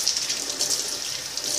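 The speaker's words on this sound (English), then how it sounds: "It's going to run under the hot water again." Hot tap water runs steadily over a toy pony, an even, close hiss of flowing water with a faint gurgle and no voices.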